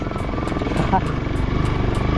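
A motorcycle engine idles with a steady rumble close by, while people talk over it.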